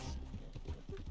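Horse hooves clip-clop in a steady rhythm in the video game Red Dead Redemption 2, fairly faint under low rumbling ambience.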